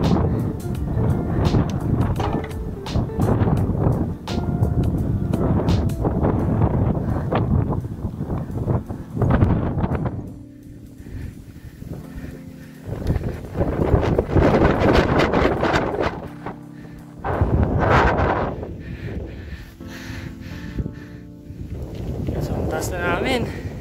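Strong wind buffets the microphone on the Solsona–Apayao mountain road, a steady roaring rumble that surges and eases, with people talking over it throughout.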